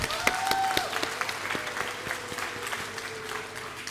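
Audience clapping at an International Missing Children's Day event, a dense, steady round of applause from a crowd, close and lively, with a few brief tones and faint voices mixed in.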